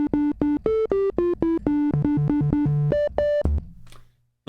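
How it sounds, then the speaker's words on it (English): A run of pure, mellow tones from a single synthesizer oscillator set to a triangle waveform, playing a short stepped melody, each note cleanly separated with a hollow timbre, ending in a brief low tail. "Single oscillator with a triangle waveform on."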